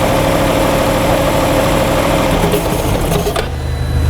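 A 2006 BMW 550i engine idles loudly and steadily with a dense mechanical rumble, then abruptly stalls near the end, leaving a quieter low hum.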